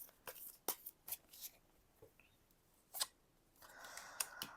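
Tarot cards are shuffled and drawn during a reading, giving soft quiet flicks and sharp snaps with short pauses between them, close by in a silent room, ending with a brief riffling shuffle.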